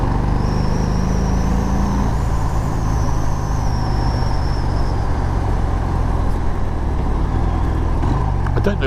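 A 2019 Harley-Davidson FXDR motorcycle leaned through a sweeping corner, its engine droning steadily under heavy wind rush, loud and continuous, with a faint rider voice early on.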